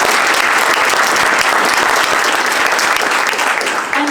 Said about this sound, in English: I'd like a great applause for our three speakers.